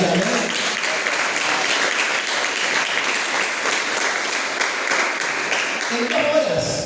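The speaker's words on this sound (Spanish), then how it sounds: "¿Cuánto le dan un aplauso al Señor?" Congregation in a church gives sustained, dense applause, loud and even throughout, with a voice briefly heard as it tapers off at the end.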